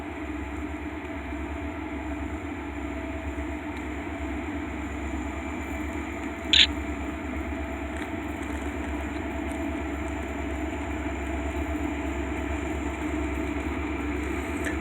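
A long train hauling Poland Spring bottled water containers from Waterville, Maine toward Ayer, Massachusetts rumbles steadily past the Whipple Street railroad crossing, with a constant low rolling drone, a high tonal whine and one brief sharp click midway.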